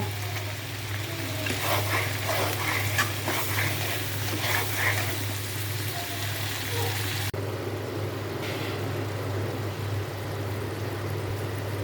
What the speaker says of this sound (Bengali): মাছগুলো দিয়ে দেব আজকে জল দেব না ডাকে ডাকিয়ে ডাকিয়ে রান্না করব